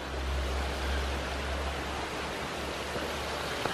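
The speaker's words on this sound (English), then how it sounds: "we have this beautiful little waterfall" A small waterfall running beside a set of stairs at a state park roars as steady broadband rushing water, close and constant, with no voices.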